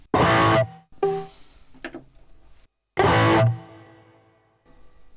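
Electric guitar through a Harley Benton DNAFx amp with reverb. Two loud distorted chords ring out, with lighter picked notes between them, and the final chord decays into a reverb tail. No one speaks.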